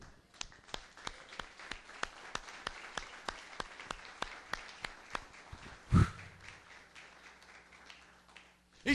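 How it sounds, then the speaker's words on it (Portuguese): A church congregation claps in slow, steady unison, each clap a crisp beat at an even pace, fairly faint and distant, ending with a sudden thump and near silence. "Quem entendeu pode aplaudir a Deus."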